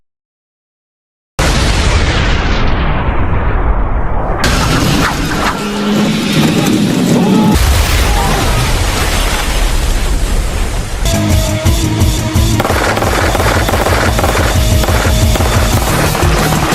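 A loud explosion in the film Resident Evil: Afterlife, set off as a dropped charge near a lift, with a heavy blast and rumbling booms over continuous dense film soundtrack that runs at full loudness throughout.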